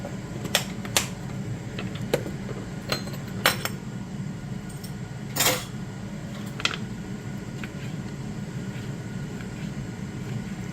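A dull knife cuts breakfast pizza lasagna pieces in a baking dish. Sharp metallic clinks and scrapes against the dish are scattered irregularly over a quiet kitchen background.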